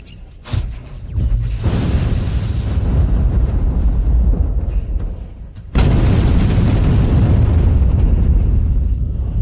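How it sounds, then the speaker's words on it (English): A new product blows up during a stress test: a loud boom opens the clip, then a sustained roaring blast, then a second sudden explosion that keeps roaring to the end, with no talk. "Oh my god, it exploded."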